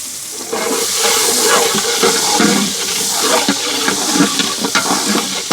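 Thinly sliced onions and green chillies hit plenty of hot oil in a large pot at an outdoor camp, giving a loud, continuous, rushing sizzle with bubbling crackles that holds steady throughout.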